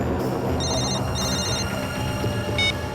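A telephone rings in a crime drama scene: repeated electronic ringtone chirps, clear and close, over a dense, loud background drone with no talking.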